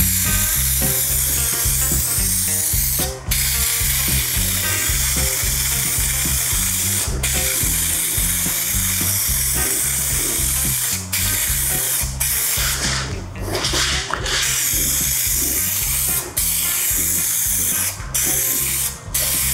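Spray adhesive hisses steadily from a can or gun onto Audi 200 door upholstery and its fabric, a loud, close, continuous spray broken by a few brief pauses.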